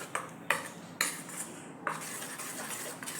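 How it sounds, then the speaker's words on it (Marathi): Bread pakora batter with baking soda is stirred in a bowl, with a few sharp clinks of a spoon against the dish at irregular intervals over a soft scraping mix. "व्यवस्थित एकाच डायरेक्शनने त्याला मिक्स करून घ्यायचं."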